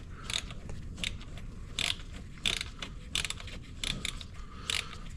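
Rapid ratcheting clicks from a wrench tightening screws on the chain case of a 2011 Ski-Doo 1200 TNT snowmobile, coming in short, close bursts about every second.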